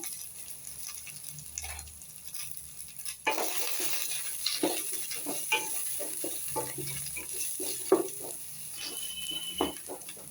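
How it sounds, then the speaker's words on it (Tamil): Onion and chili sauté on low heat in a lightweight pan while a basmati pulao is cooked. Quiet at first, then a steady close sizzle sets in, broken by scraping stirs and occasional louder pops. "வெங்காயம் போட்டுருவோம் மிளகா வெங்காயம் மிளகா இது கொஞ்சம் வதங்கட்டும்"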